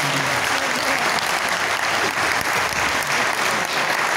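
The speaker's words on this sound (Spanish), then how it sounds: "por favor, un aplauso para Sergio Navarro." A crowd applauds loudly and steadily at a video game awards ceremony, a dense wash of clapping hands that continues without pause.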